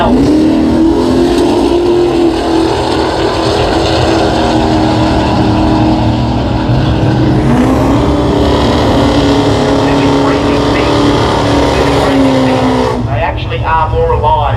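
Mopar cars with combustion engines rumble and rev loudly up close at a car show, a continuous engine roar with rising and falling pitch as they drive past, ending in a sharper revving burst.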